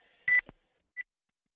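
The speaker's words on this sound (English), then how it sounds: "That beeping's going to drive me incessantly crazy." Beeping tones on a conference call line, apparently from a participant's muted or held phone: one short tone followed by a second faint, brief beep about half a second later, quiet and isolated with no talking.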